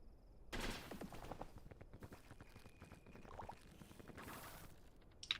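Rope cannon fires in the climbing video game Peak, a loud burst of rapid rattling shots followed by mechanical clatter and a second sharp blast, with quieter gaps between.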